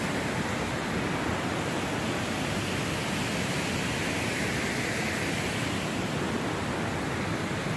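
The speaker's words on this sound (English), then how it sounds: "Go to these bigger waterfalls." A river waterfall pours in a steady, dense broadband rush, continuous and fairly distant-sounding, with no talk or other sounds over it.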